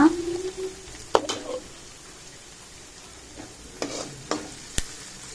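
Onions fry in a pan toward golden brown, a faint steady sizzle under scattered sharp clinks and scrapes of a spoon, with a brief tonal squeak at the start.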